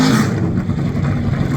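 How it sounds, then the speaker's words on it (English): A NASCAR race car engine revs loudly at a motor show, a brief close roar that rises sharply and then settles. "It's a real NASCAR"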